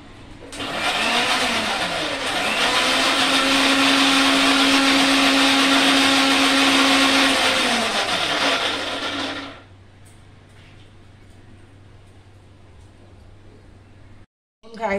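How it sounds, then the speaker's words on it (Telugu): A mixer grinder whirs loudly for about nine seconds, pulping cashews, tomato and onion into a paste, then cuts off, leaving a low steady hum and quiet room noise. "ఇప్పుడు నేను ఈ జీడిపప్పు, టమాటా, ఉల్లిపాయ పేస్ట్ చేసుకుంటాను."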